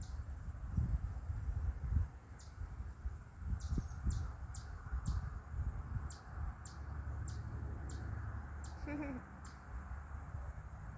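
Short high-pitched bird chirps repeat every second or so, somewhat distant, over low outdoor rumble and faint rustling.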